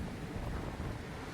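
Breeze blows across an open pond park, a steady low rumbling wind buffet on the microphone, continuous and moderately loud with no voices.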